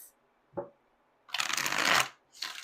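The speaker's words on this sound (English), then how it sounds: "Let's do one more shuffle for the sign of Aries." Tarot cards shuffled in three quick bursts: a brief riffle, then a longer, louder flurry of rapid papery flapping, and a final short shuffle.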